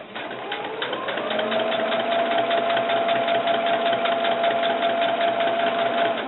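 A sewing machine stitches vinyl for doll snakeskin boots, running close and steady with a rapid even needle chatter and motor whine after a brief start.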